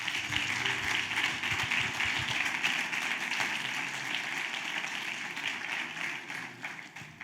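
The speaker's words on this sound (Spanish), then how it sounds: "Denle un aplauso al Rey." A congregation applauding at a church service, a dense, sustained wash of clapping that holds steady for several seconds before thinning slightly at the end.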